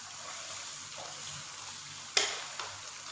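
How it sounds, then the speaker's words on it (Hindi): Fried onions being stirred into chicken biryani in a pot, a steady sizzling hiss with a couple of sharp spoon scrapes and clinks near the end, no voices. "अच्छे से आप लोगों ने इसको मिक्स कर देना है।"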